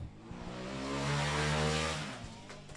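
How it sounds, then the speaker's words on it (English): A Formula Student race car's combustion engine passes close by on an autocross course, its harmonic drone swelling to a peak and fading as it goes past, alone without talk. "Passing in front of us with the combustion engine noise that we like"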